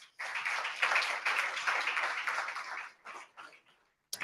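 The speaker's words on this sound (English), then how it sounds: "But Andre Franklin, give him a round of applause, please." Audience applause for Andre Franklin, a United Way board member, at an event: a sustained burst of clapping for nearly three seconds, then fading into a few scattered claps and a brief final patter.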